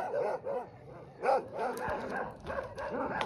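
Dogs on a trip through the Atlas mountains in Morocco bark and yip repeatedly in uneven bursts, fairly close, with some whining between barks.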